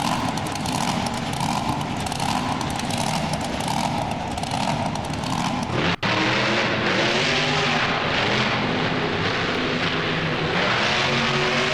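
Loud, continuous roar of a powerful monster truck engine in BeamNG, revving and droning throughout with a sudden shift in pitch halfway through as the truck drives on.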